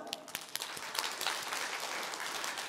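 Audience applause at a direct-sales success academy seminar in Byeonsan, with many hands clapping in a steady wash of claps that runs the whole stretch at a moderate level.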